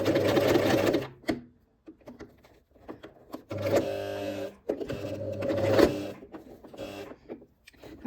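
A sewing machine stitches through a thick terry-towel headband in short loud whirring runs, stopping and starting several times with clicks and quiet gaps between, heard up close.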